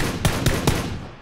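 Three sharp gunshots crack in quick succession in the PUBG Battlegrounds video game, evenly spaced about a fifth of a second apart, close and fairly loud over a steady low background hum, with no voices.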